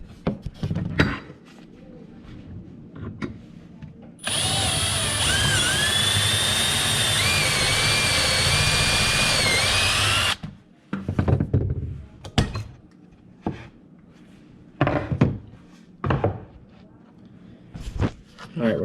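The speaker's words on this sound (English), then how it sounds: "I'm going to drill through this hole here." Power drill boring through a wooden drawer slide installation, a loud continuous high-pitched whine for about six seconds, set between bursts of talk and clamping knocks before and after.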